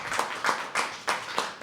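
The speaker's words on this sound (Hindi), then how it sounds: "इसी नोट पे हम बुलाएंगे जोरदार तालियों के साथ" Open mic poetry audience claps to welcome a poet, a few slow, distinct claps close by with a rhythmic spacing rather than dense applause.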